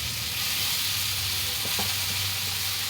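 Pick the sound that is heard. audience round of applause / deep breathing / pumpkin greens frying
pumpkin greens frying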